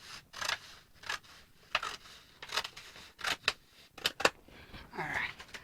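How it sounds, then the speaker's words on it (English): Scissors snip through folded pattern paper for a pencil skirt in a series of crisp, separate cuts at an uneven pace, close and fairly quiet, with a longer rustling slice near the end. "Very careful when you are cutting your paper."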